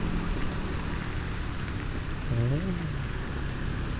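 Heavy rain pours down on a road while a person rides in it holding an umbrella, a dense steady wash of noise with a brief voice-like tone partway through.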